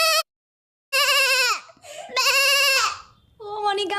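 A voice mimics a young goat with high, shaky bleats, one short cry followed by several wavering, falling bleats and a final trembling call, all close and fairly loud.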